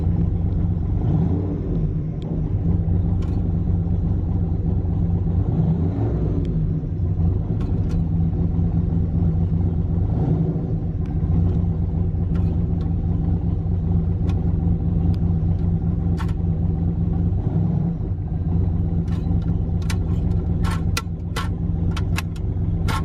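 A turbo LS-swapped GMC truck with a TH400 automatic transmission drives along, its engine producing a steady loud low rumble from inside the cab with occasional faint rattles and clicks.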